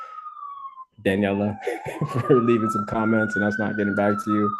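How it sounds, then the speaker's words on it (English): A wailing emergency siren, likely a police car, rises and sways steadily in the background throughout, continuing under someone talking close to the microphone. "Sorry for the siren in the background."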